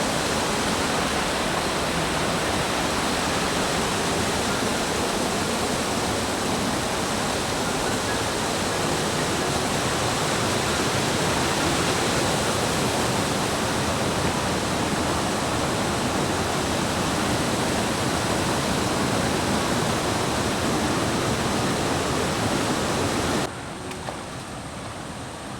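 Water rushes far below in a deep valley at Pachamalai, forming a dense, continuous roar with no breaks that changes character abruptly only near the very end.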